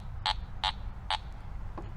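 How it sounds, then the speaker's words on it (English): Three evenly spaced low-tone beeps from a Teknetics Delta 4000 metal detector, moderately loud over a steady low background hum, followed by a faint fourth blip. "Here's a low tone."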